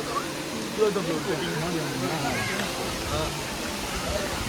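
Constant rushing water of Moolakona Waterfalls roars in the background while a person talks over it.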